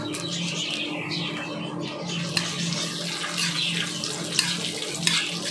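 Salted peanuts hit hot oil already holding cumin seeds and dried chillies, giving a steady, close, moderately loud sizzle with a few sharp crackles and pops scattered over it.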